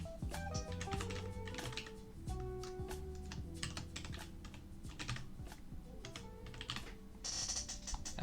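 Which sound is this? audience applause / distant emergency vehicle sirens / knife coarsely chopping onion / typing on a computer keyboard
typing on a computer keyboard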